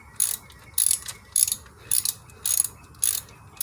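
Ratchet tightening a bolt on the alternator of a 2007 Ford Mustang V6 4.0, giving six evenly spaced bursts of sharp close-up clicking with brief pauses between.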